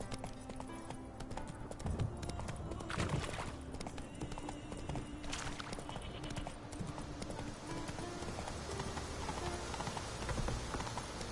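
Steady clip-clop of horse hooves on a road in the video game The Witcher 3, continuous and close, with light ambient noise and an occasional whinny in the background.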